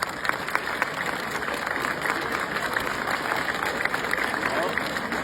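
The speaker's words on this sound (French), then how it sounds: "Bravo, vous pouvez les applaudir." Audience applause at a ceremony renaming a lycée in Sarlat, a steady, dense wash of clapping from a crowd at moderate distance that holds for the whole stretch, with talk faintly mixed in underneath.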